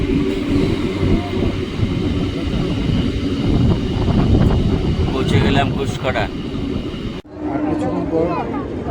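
A local train pulls away from Bhedia station with a loud, continuous rumble and rattle of wheels and carriages, people talking over the noise, and a sudden drop in sound near the end.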